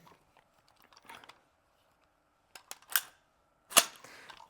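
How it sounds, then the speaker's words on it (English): AK-47 rifle shots fired outdoors in Russia, two sharp cracks heard faint and distant amid quiet, with a few softer clicks and rustles before them. "going to be shooting the AK-47"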